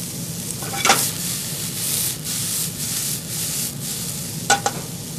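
A tablespoon of shallot sizzling in a restaurant pan for wild mushroom barley risotto, a steady soft hiss with a couple of sharper scraping stirs, close and without talk.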